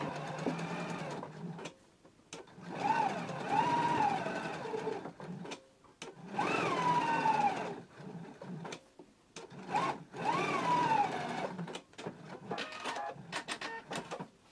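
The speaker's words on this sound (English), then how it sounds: "Now the top stitch at 1/4 of an inch." A home sewing machine top-stitching a quarter inch from the edge on a Simplicity #8889 garment flap, running in several busy mechanical bursts of rapid needle chatter separated by short quiet pauses.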